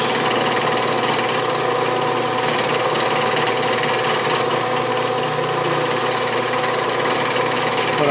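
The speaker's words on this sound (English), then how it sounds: "I am milling a little bit of that packing off" An end mill cuts packing material off a part for a Stuart steam engine, making a continuous, loud, even grinding whir that holds steady throughout with no talking.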